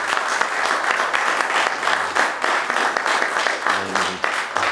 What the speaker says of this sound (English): it's our time to kind of honor them with a good round of applause